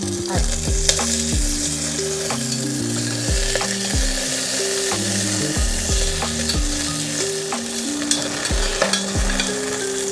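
Stems of nalleru, the veld grape, fry in a pan with a strong continuous sizzle and repeated clanking scrapes of a utensil stirring against the metal, fairly close and with no talking.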